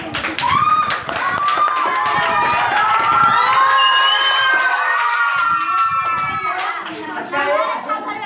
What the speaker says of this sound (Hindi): तो एक बार ताली मार दो।